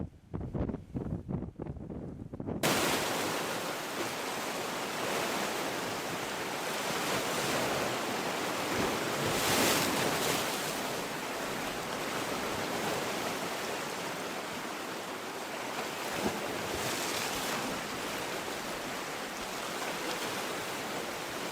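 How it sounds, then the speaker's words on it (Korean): Strong wind roars across the microphone while heavy waves crash and surge continuously at a seaside cliff on Miyako Island, loud and unbroken after a brief quieter opening. "바람도 너무 많이 불고 파도도 세네요."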